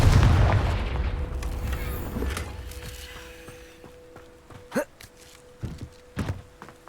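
Confringo fire spell cast in Hogwarts Legacy, a sharp thudding blast followed by scattered game impacts and effects, loud and without talk.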